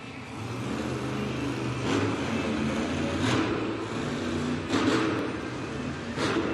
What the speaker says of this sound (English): You hear him revving the throttle?